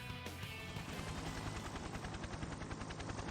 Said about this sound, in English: Simultaneously, the faint sound of a helicopter becomes evident.